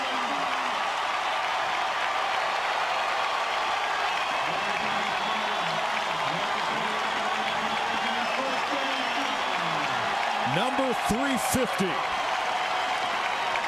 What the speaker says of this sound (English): this Pirates crowd shows their appreciation